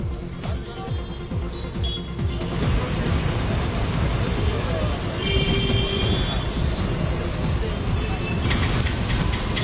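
Bengaluru metro train on the Halasuru–Indiranagar stretch, a steady loud rumble of wheels and carriages with faint high squeals above, continuous throughout.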